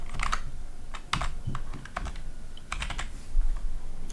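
Crisp keystrokes on a computer keyboard as a numeric passcode is entered, arriving in small clustered bursts separated by brief gaps, close and clear.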